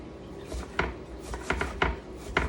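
Knife slicing steak into thin slices on a cutting board, with several distinct sharp cuts spaced irregularly over a low, steady background hum; no talking.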